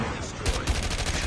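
Rapid gunfire in a ranked shooter video game, loud, dense overlapping shots continuing through a short burst, with a voice speaking.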